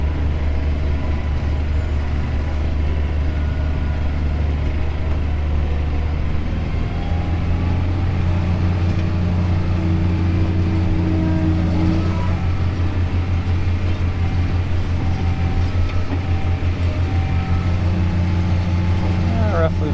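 A New Holland T7030 tractor drives a PTO-powered Hiniker 5620HH through a field, its engine a steady, loud low drone with a whirring drivetrain, and someone talks over it at times.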